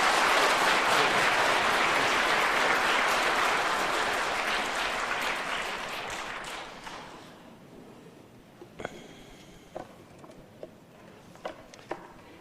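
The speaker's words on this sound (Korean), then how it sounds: "깊은 박수 부탁드리겠습니다." A church audience applauds a bishop at an Advent lecture, sustained, fairly loud clapping that thins and fades over several seconds, leaving a few scattered late claps and small noises in a quieter room.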